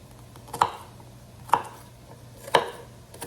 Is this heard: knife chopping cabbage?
yes